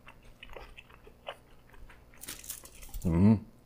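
Someone bites into French fries topped with a ketchup and mayo combo, giving a single close crunch near the end, preceded by soft mouth noises and light handling.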